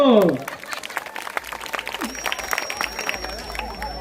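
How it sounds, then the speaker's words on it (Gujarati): Audience applause at a village festival stage event, scattered claps rising into a steady burst that continues for several seconds with some crowd noise mixed in. "તાળીઓ"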